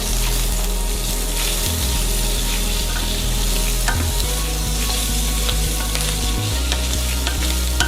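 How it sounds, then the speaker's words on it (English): Sausage and guanciale frying in a pan for pasta alla zozzona: a loud, continuous close sizzle and crackle with occasional stirring and a few sharper pops, no talking. "And now we can see this sausage and the guanciale cooking away nicely"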